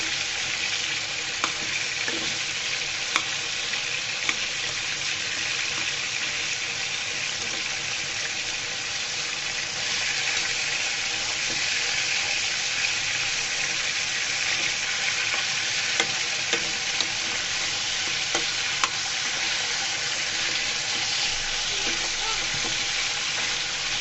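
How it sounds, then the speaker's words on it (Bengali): Meat pieces fry in a pan for a chicken curry, a steady close sizzle running throughout with scattered clicks and scrapes as the pieces are turned over, no voices. "আমি মাংসগুলোকে উল্টিয়ে দিচ্ছি। আমি অনেকক্ষণ ধরে ভাজা করতেছি"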